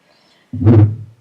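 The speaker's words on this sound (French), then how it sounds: "Ça, c'était ma chaise." A chair scraping and thumping in a room, one short, loud, low-pitched scrape-and-bump burst lasting about half a second, close by and alone after a near-silent lead-in.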